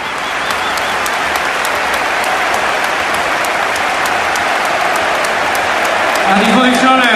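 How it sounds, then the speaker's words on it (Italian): A packed crowd at the Stadio Olimpico in Rome roars with loud, sustained applause for a retiring football captain's farewell in May 2019, a thick wall of clapping and cheering that swells slightly near the end. "Applauso!"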